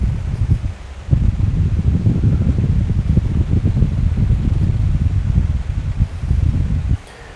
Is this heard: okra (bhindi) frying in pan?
no